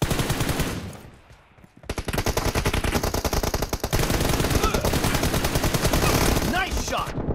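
Rapid automatic gunfire in PUBG Mobile during a 2v2 TDM match, loud dense bursts of shots running almost continuously after a brief quieter lull, with a voice talking over the shooting.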